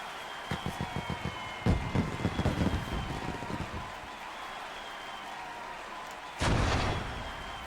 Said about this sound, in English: Why are you firing a gun in the courtroom?